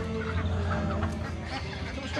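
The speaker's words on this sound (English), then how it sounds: "They got the chickens, look." Chickens cluck steadily at close range over a busy street-market background murmur in Iligan City, Philippines, with no distinct voices standing out.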